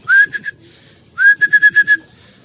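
Pet pigeons outdoors in the morning give sharp, whistling high calls, a short burst of three followed by a longer run of five or six rapid notes, loud and close with no talk.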